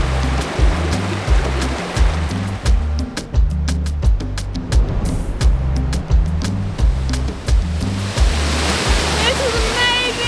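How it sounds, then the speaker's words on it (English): A wilderness waterfall spills over a ledge into a clear creek with a steady rush of water, and a person talks over it throughout. "So that ledge is only one portion of the waterfall."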